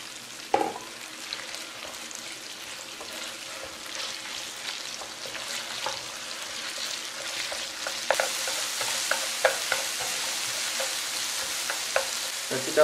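Minced pork with garlic sizzles and crackles steadily in a hot pan, with occasional scrapes and clatters as it is stirred.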